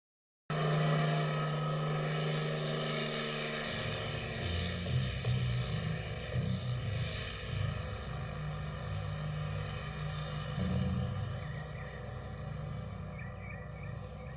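A police helicopter flies overhead in a film scene, a steady droning engine and rotor hum that starts abruptly and holds loud throughout, with slight swells as it passes.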